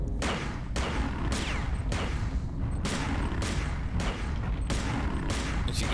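Rapid bursts of standard-bullet gunfire hammer at the Rumbler in the System Shock 2 video game, loud repeated shots in about six clustered volleys with short gaps, continuous and close.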